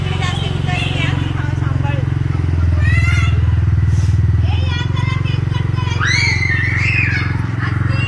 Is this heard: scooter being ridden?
yes